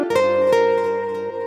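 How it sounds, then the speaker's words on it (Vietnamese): Nylon-string guitar tone from a keyboard, a couple of plucked chord notes ringing out and slowly decaying, close and clear, alone. "Ok, tiếp theo đó là tiếng guitar nylon."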